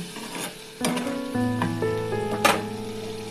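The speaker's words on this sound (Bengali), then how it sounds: "দেখুন আমি এবার জলটা ঢেলে দিচ্ছি" Water pours into a hot pan of tangra fish mustard curry, a sudden loud sizzle and bubbling swell with a few clinks of utensils against the pan, no voices.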